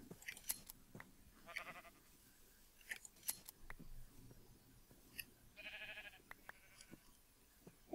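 Sheep being sheared in Minecraft: crisp scissor snips alternate with short bleats, quiet and spaced out with pauses between them.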